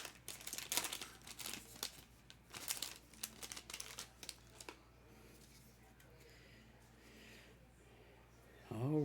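A Magic: The Gathering Edge of Eternities collector booster pack wrapper crinkles and tears open in close, loud bursts for several seconds, then quiets as a voice speaks.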